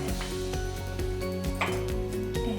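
Seasoned food with cayenne and garlic salt is stirred and tossed in a pot, with steady scraping, soft clinks of the utensil against the metal and a faint sizzle running underneath.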